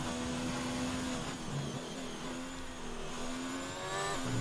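Formula 1 car engine in the F1 2019 racing game at Hungary, a steady high-pitched whine held hard through a corner with slight pitch shifts, loud and continuous throughout.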